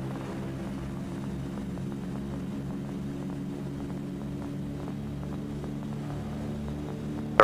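Engines of a B-24 bomber aircraft drone steadily from close by, a constant throbbing hum with no voices heard.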